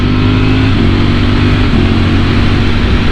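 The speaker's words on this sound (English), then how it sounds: "listen to the quick shifter" A motorcycle at speed, its engine droning loud and steady, with brief dips in the note as the quick shifter snaps through up and down gear changes.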